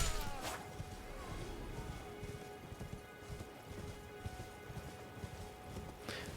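A horse's hooves clip-clop in the Elden Ring video game, a quiet, steady trotting rhythm with a couple of sharper impacts, heard faintly beneath game ambience.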